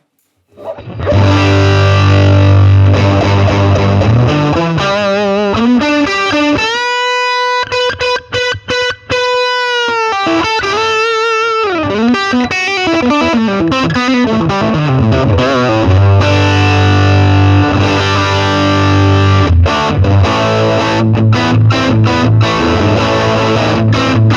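Heavily distorted electric guitar through a Swart Atomic Space Tone amp with gain cranked, sustained buzzing chords and bends that swell, warble and ring out loud and close.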